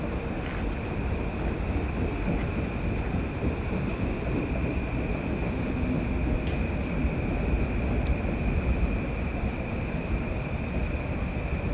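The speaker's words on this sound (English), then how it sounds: "we would see the 1111 train pulling into New Rochelle" The 11:11 train pulling into New Rochelle station, a continuous loud rumbling roar with a steady high whine above it and heavy wind buffeting the microphone, one or two faint squeaks near the end.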